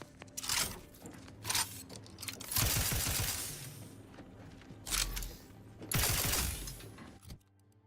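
Bursts of rapid crackling fire from a chain spark cannon in The Outer Worlds 2, several rattling volleys separated by short pauses, with sharp mechanical clatter.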